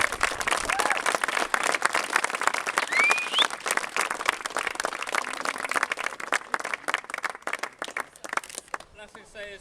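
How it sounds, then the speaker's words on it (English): Audience applause at a school gathering after a sponsored charity cycle ride, steady dense clapping from a crowd close by, thinning out toward the end, with a few cheers mixed in. "So, one final round of applause."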